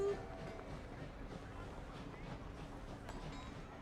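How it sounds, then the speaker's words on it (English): A train running in the video game Victoria 3 rumbles in a steady, continuous wash of noise, with a faint rhythmic rolling under it and no clear voice. "Oh, there's a train."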